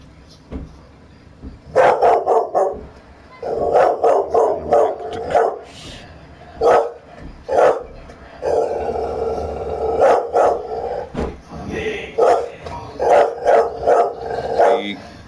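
A dog barks repeatedly in loud, close bursts and clusters, with yips and whimpers between them, over a background of a PS4 game stream.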